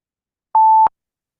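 A single pure electronic beep lasting about a third of a second, loud and clean against silence, serves as a timer signal marking three minutes at a Toastmasters club contest held online.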